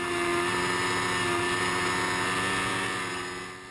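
Suzuki GSXR 1000 training bike and BMW S1000RR racer motorcycles riding on a racetrack, a steady loud engine roar with a strong tonal drone throughout, fading slightly at the end.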